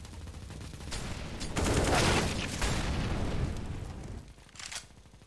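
Gunfire in Counter-Strike during a streamer tournament match: bursts of shots and booming impacts swelling to a loud peak in the middle, fading, then one more short burst near the end.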